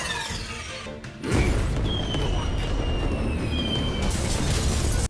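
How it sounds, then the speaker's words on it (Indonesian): Anime fireworks attack: a sudden crashing blast erupts after a quieter opening and becomes a sustained roaring rumble with whistling streaks overhead, loud and close. "Kemudian menyerang Shinji dengan kembang api."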